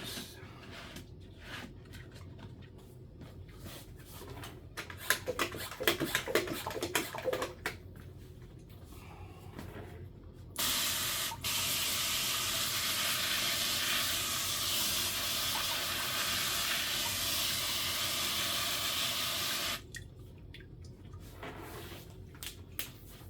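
A water spray rinses material while bubble hash is being made, a steady loud hissing rush lasting about ten seconds in the middle, with quieter handling and splashing noises before and after.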